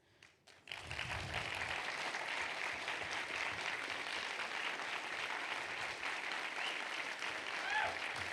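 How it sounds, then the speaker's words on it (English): Audience applause at a programming conference in Wellington, New Zealand, starting after a brief pause and swelling into steady, dense clapping that holds at an even level to the end, with faint voices underneath. "if we can just have our speakers stand up and we give them a big round of applause."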